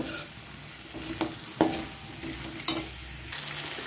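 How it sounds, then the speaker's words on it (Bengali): Chana dal, potato and sugar being stirred in a pan for a coconut potato curry, with a few scraping spoon strokes over a soft continuous sizzle, close and moderately quiet. "এবারে ছোলার ডাল, চিনি সমস্ত উপকরণ ভালো করে মিশিয়ে নেব, একটু নেড়ে চেড়ে নেব"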